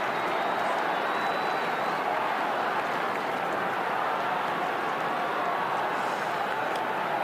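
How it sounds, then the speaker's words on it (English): A stadium crowd at an AFL match between Port Adelaide and Richmond, a broad continuous roar of cheering and noise that stays dense and loud from start to finish. "you get the sense now the crowd's starting to move"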